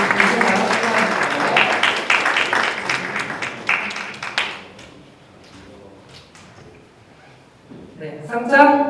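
Applause at a Korean public-institution job-idea competition awards ceremony, a burst of clapping for a prize-winning team that fades after a few seconds, followed by a speaker addressing the hall.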